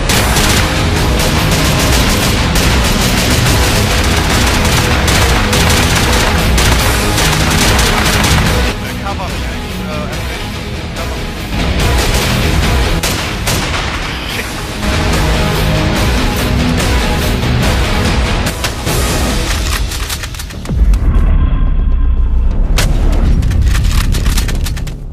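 Gunfire in a hostage-scenario shooter video game is dense and loud, with sustained bursts, booms and rattling volleys that overlap almost without a break. Short lulls separate the barrages, and voices are partly masked by the din.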